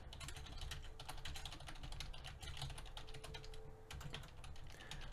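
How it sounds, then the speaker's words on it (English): Rapid clicking of keys on a computer keyboard, a quiet, close, uneven stream of keystrokes with brief pauses, faint background hum underneath and no voices. "Oh god, I'm gonna be typing this out a lot."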